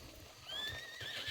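A horse in a roleplay video game gives a short, quiet whinny with rising, wavering squeals, over soft low thuds that could be hooves, with no speech.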